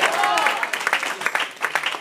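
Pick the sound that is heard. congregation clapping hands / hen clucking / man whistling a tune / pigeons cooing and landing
congregation clapping hands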